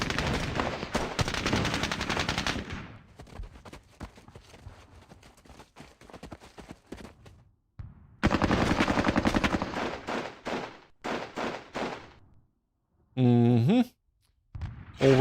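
Gunfire in the PC war game Squad Battles Eagles Strike v4.02: several loud bursts of rapid shots broken by quieter gaps, with short sharp reports near the end.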